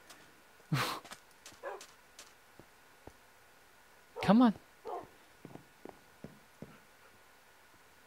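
Dogs from a Minecraft mod game give one short bark and then a louder whining bark amid sparse clicks and ticks, while a person speaks briefly in between.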